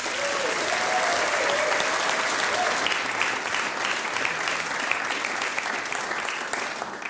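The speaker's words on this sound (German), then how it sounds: "Danke, meine Damen und Herren, für diesen warmen Applaus." Warm, sustained applause from a theatre audience for a cabaret performer, a dense even roar of clapping that fills the whole stretch with no one speaking.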